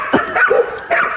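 A puppy gives several short, yappy barks and yips close by, in quick bursts separated by brief pauses.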